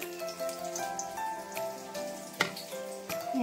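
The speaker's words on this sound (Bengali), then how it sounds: "এটাতে চুবো দিয়ে তেলে ছেড়ে দিয়েছি" Gram-flour battered fritters fry in hot oil with a soft, continuous sizzle and scattered pops, heard close and fairly quiet beneath a faint background tone.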